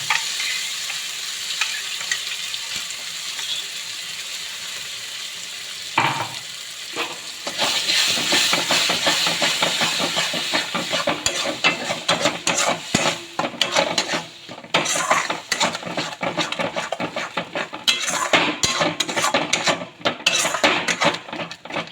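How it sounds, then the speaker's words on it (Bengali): Spinach and green chili paste cooking in a pan: a soft background sizzle, then a louder burst as the paste goes in, followed by steady close-up stirring and scraping against the pan over a continuous frying hiss. "এর মধ্যে এবার আমি পালং শাক আর কাঁচা লঙ্কার পেস্টটা দিয়ে দেবো"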